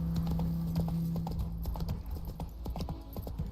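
Hooves of Roach, the horse in The Witcher 3, pound out a quick, steady galloping clip-clop, close and clear for a few seconds.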